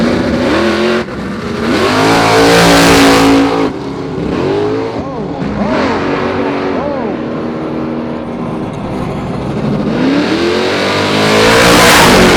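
A late-model Dodge Challenger drag car at a drag-racing event blasts off hard, its loud engine wailing up through the gears with rising harmonic sweeps, close and dominant, while an announcer talks over it.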